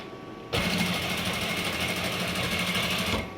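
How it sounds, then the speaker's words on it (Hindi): A sewing machine runs a steady, continuous whirring stitch with thick thread for about three seconds, starting abruptly and stopping near the end. It sounds close and fairly loud, with no talking. "और इसके ऊपर हमने स्टिचिंग करनी है मोटे धागे वाली"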